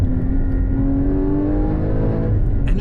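The 3.8-litre engine of a 2016 Porsche Cayman GT4 sounds through its exhaust on downshifts: a loud, close, throaty growl with a resonant rising note, holding steady throughout.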